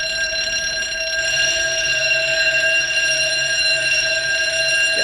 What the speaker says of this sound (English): We had fire drill.